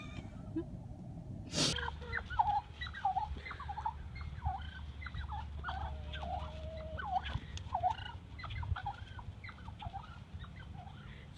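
Domestic turkeys gobbling nearby in a rapid run of repeated warbling calls, with a sharp knock just before them and a low rumble underneath.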